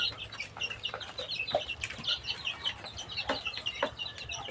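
Layer hens cluck on a poultry farm in cold winter weather, a scatter of short, sharp clucks and calls from several birds close by, with no talk over them.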